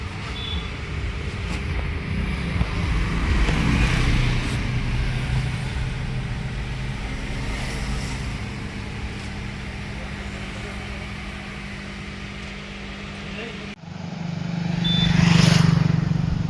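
A vehicle driving along a narrow single road near Bangarpete, a steady engine and road rumble throughout, swelling louder near the end as another heavy vehicle approaches, with people talking over it.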